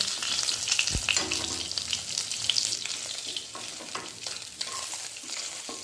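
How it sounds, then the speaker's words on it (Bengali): Fish pieces fry in hot oil, a steady close sizzle and crackle as they are turned on all sides, with an occasional soft knock of the utensil against the pan and no talking. "দেখুন মাছগুলোকে এইভাবে উল্টে পাল্টে সব দিক দিয়ে খুব ভালো করে ভেজে নিতে হবে"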